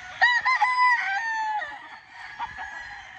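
A gamefarm rooster crows close by, with other roosters crowing and clucking in overlapping calls, no talking.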